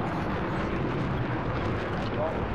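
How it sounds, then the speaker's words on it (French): A helicopter in a video game drones with a continuous, dense rotor and engine roar, steady and loud throughout with no pauses. "Hélico de Rocco les mecs hein. Dans sa base."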